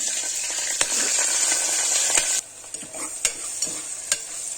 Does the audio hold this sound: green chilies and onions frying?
yes